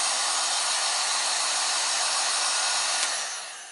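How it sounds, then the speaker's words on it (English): A heat gun blows steadily to shrink heat-shrink tubing over soldered wires on a Ski-Doo snowmobile tail light, a loud close hiss of hot air that runs throughout and tapers off at the end. "We're going to get the heat gun, shrink those down."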